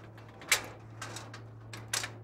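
A construction elevator cabin door being closed, heard as a few separate short clacks and knocks with one sharper bang near the start and another near the end, over a steady low mechanical hum.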